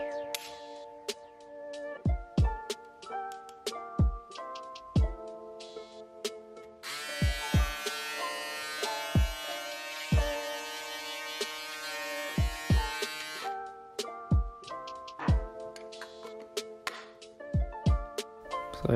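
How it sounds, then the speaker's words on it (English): A Foil FX 02 electric shaver runs with a bright, steady buzz for about six seconds. Rhythmic background music with plucked tones and soft beats plays throughout. "you'll hear it right now once I turn it on"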